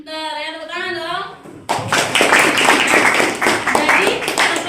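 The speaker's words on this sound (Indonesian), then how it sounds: "tepuk tangan dong" Pupils in a classroom burst into loud, dense hand clapping that carries on steadily after a teacher's brief spoken prompt.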